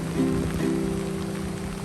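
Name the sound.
heavy rain pouring in Unazuki Onsen, Japan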